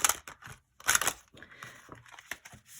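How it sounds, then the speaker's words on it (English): A deck of tarot cards being shuffled at close range, giving quick papery riffles and slaps in a few irregular bursts separated by short pauses. "Let's shuffle it one more time."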